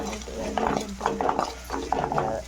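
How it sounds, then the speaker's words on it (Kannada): Sliced onions frying in a pan for tomato rice, stirred with a utensil in a series of short scraping, rattling bursts over a steady low cooking hiss, close and moderately loud, with no voices. "2 ಈರುಳ್ಳಿ ಹಾಕೊಂಡಾದ್ಮೇಲೆ ನೀಟಾಗಿ ಅದನ್ನು ಫ್ರೈ ಮಾಡ್ಕೊಳ್ಳಿ."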